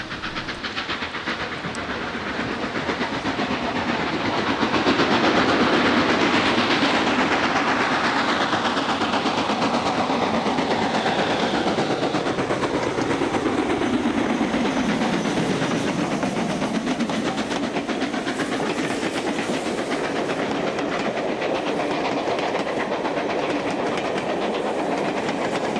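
Steam locomotive Princess Elizabeth runs northbound near Nuttall Tunnel on the East Lancashire Railway, a loud steady rush of exhaust, hiss and wheel rumble with rail clatter as the train passes close by for the whole stretch, no voices.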